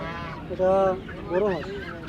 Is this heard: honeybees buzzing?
no